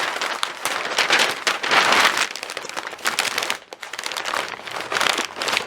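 DTF sublimation transfer film being peeled off a freshly pressed print, a continuous crinkly crackling rustle with uneven bursts and a brief dip midway, close and fairly loud with no talk.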